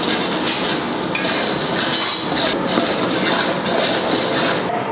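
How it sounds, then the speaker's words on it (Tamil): Half a kilo of large onions sautéing in oil in a big pot for a chicken biryani batch, giving a steady, close, even sizzle with faint stirring, and no talk. "இப்போ நல்லா வதக்கி எடுத்துக்கலாம்."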